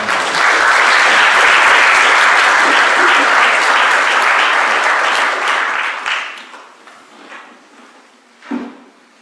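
A debate audience at Faith Baptist claps loudly in sustained applause for about six seconds, then the clapping thins out and fades, ending with a brief thump.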